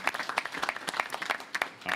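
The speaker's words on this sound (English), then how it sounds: "How about a round of applause for all the board of the Chamber?" A short burst of scattered, uneven clapping from a small audience at a sewer project press conference, close and lively for about two seconds.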